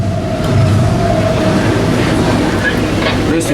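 Freight train Q217 roars past at speed at close range, a loud, steady rumble of rolling cars and wheels lasting throughout without pause.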